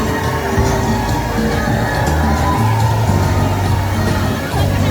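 A busy amusement park crowd keeps up a constant murmur of many voices with occasional shouts, loud and continuous throughout.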